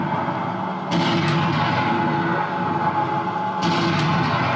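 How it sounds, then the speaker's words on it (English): A 1/6 scale all-metal Armortek RC Ferdinand Elefant tank destroyer fires its gun sound effect, giving two loud booming blasts about three seconds apart over a steady background rumble. "of course the almighty kaboom"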